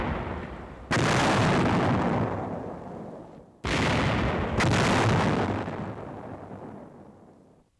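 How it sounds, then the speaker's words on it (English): Two heavy blasts of a 105 mm howitzer firing, each a sudden loud boom followed by a long rumbling decay of several seconds, with a sharper crack inside the second, no voices. "Firepower is the 105 Howitzer,"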